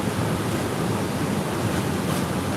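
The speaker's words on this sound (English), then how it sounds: "Rain's picking up a little bit." Rain falls steadily outdoors during a flathead fishing trip on a river, a dense, continuous hiss mixed with wind buffeting the microphone, with no one talking.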